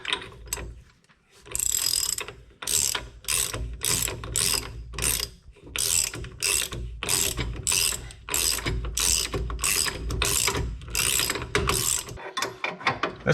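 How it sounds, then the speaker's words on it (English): A ratchet tightening an axle bolt on a Ford Taurus, clicking in repeated even strokes with brief pauses between sets, close and fairly loud, no voices. "Here's our axle bolt. We're going to tighten that down to spec."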